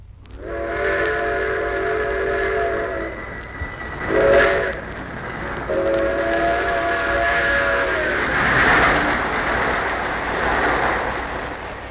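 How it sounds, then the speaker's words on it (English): A train rushes past with a steady rumble while its whistle blows in several long blasts, the clatter swelling and fading. "That train you're hearing has whizzed around the earth"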